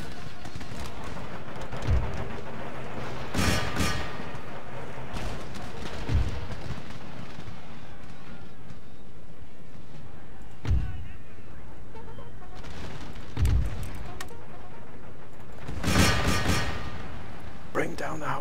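Howitzer artillery firing in Empire Total War, with heavy booming shots landing every few seconds over a continuous rumble of battle, while someone comments over it.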